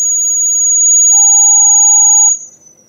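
A magnet pole detector's buzzer sounds a steady, piercing electronic tone for about two seconds with a second tone joining in, then it cuts off abruptly, leaving faint room noise.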